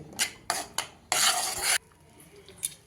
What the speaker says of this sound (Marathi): आणि छान आता आपण ते परतून घेऊया